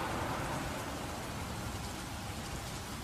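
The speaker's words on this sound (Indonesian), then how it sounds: "Dan hujan ini mengguyur semua hangat ini" Steady heavy rain pours down in a continuous broadband hiss, dense and unbroken from start to finish, with no voices over it.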